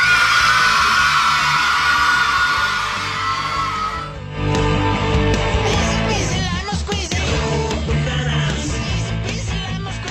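A loud basketball crowd yelling and cheering, sustained shouts and whoops throughout, with a dip midway before the noisy cheering swells again.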